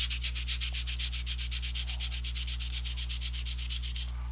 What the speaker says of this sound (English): You can hand sand it.